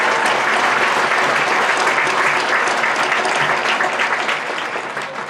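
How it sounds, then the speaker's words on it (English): Loud, sustained applause from a large graduation ceremony crowd at a high school, steady clapping throughout that tapers slightly toward the end. "So let's give ourselves a round of applause."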